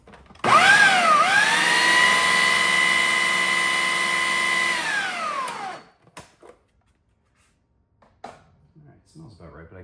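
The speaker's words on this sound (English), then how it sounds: "This blender slash food processor combo is like 10 years old, going strong" A roughly ten-year-old Ninja blender and food processor combo whirs loudly for about five seconds while blending tzatziki, its motor pitch dipping briefly at the start before winding down, followed by quiet handling noises.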